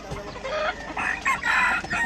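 Many chickens being loaded into a van clucking and squawking in a dense, agitated chorus, close by, with occasional louder calls cutting through.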